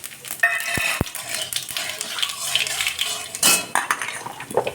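Dry red chilli and black cumin frying in hot oil in a wok, with sharp metal spatula clinks against the pan at the start, then crackling sizzle and scraping stirs close by.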